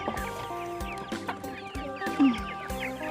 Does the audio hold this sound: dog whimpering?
no